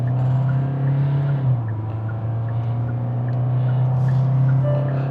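A Hyundai Venue 1.5L diesel automatic drives at speed, its engine droning steadily with a low hum and road noise heard from inside the cabin.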